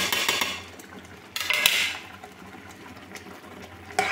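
A spoon scrapes and clinks against a cooking pot while dalia is stirred with a spoonful of ghee, giving a few sharp metallic knocks over light scraping, close and moderately loud.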